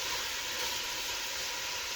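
Onions sizzle in a pan over medium-low heat, giving a steady, soft, continuous hiss with no other sounds.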